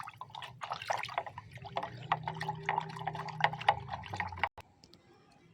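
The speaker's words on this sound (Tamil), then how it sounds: "இப்போ இதை நல்லா மிக்ஸ் பண்ணிக்கோங்க." A fermented homemade liquid insect repellent is stirred, giving close, wet sloshing and dripping with a steady churning rhythm that stops abruptly near the end.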